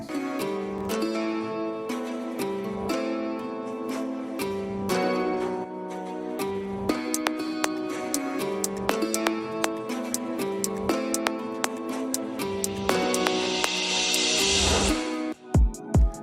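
A looping electronic beat plays, and a hissing noise riser with a reverberant wash swells over the last few seconds before cutting off into two low thumps.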